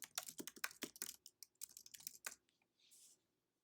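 Keys clack in a quick, uneven burst on a computer keyboard while text is typed, about twenty close, soft clicks over two seconds, then a brief pause and a faint rustle.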